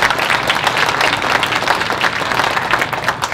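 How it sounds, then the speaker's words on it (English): Loud, sustained applause from an audience at an education gathering of Ontario chiefs, dense clapping from many people filling the room steadily without pause. "give Grand Chief Gord Peters a big round of applause"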